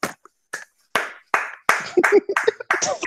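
A sports and music podcast host claps his hands sharply and close, about nine crisp claps, spaced slowly at first and then quickening, with a brief voice slipping in between the later claps.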